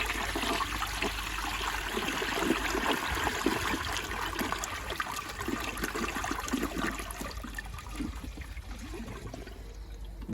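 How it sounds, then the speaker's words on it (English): A 1981 Eljer toilet with a flushometer valve flushes with a loud, steady rush of water that roars without a break for about ten seconds, close by, with no voices. "The flush seemed to improve a little bit there."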